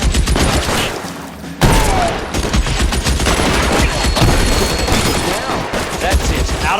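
Gunfire in the video game L.A. Noire on PC: a dense, loud, continuous volley of shots and machine-gun fire with almost no pauses, while voices shout over it.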